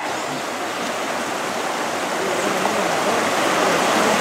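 A swollen creek rushes steadily past, its broad hiss of flowing water loud and close, holding an even, unbroken wash of sound that grows slightly fuller toward the end, with no voices over it.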